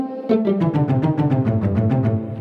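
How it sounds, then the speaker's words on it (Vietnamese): Pizzicato strings tone from a keyboard, a quick run of about a dozen evenly spaced plucked notes, bright and close, with no voices. "Rồi rai 2 các bạn chọn cho mình tiếng pizzicato."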